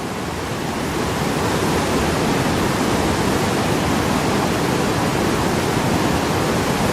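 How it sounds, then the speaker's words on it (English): Brook swollen by flooding, rushing loudly and continuously like a broad river, a dense, steady roar of running water with no break or speech. "you can hear the water running here in this brook"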